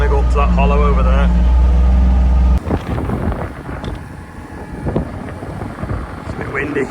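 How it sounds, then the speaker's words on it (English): Wind buffets the microphone outdoors at a field land-drainage job with a trencher, a low rumbling roar of gusts following a steady engine hum in the opening seconds. "It's a bit windy"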